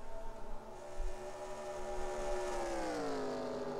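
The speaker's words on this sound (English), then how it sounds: "you can start hearing the note of the engine change" Race car engines in an IROC series race at Darlington, in a racing video game, hold a sustained droning whine whose pitch slowly slides downward as the cars lose grip, steady and loud with no talk.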